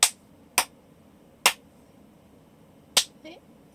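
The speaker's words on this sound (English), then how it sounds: "I'm gonna try and clap away from the mic somewhat just so you hear the echo." Four sharp hand claps made away from the microphone in a room, sounding unevenly spaced and crisp with short room echo tails, and a faint murmur after the last one.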